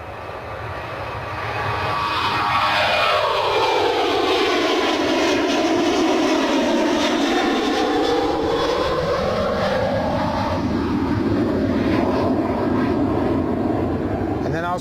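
Airliner taking off from Bristol Airport: a loud, sustained engine roar swells up and holds, its pitch sweeping down and back up as the aircraft accelerates and passes.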